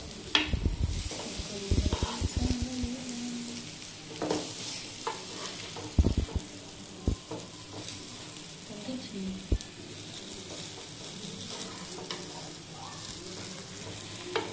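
Brinjal (eggplant) pieces fry in a pan with a soft, steady sizzle, broken by several sharp clacks and scrapes as the pieces are stirred and turned, no talking.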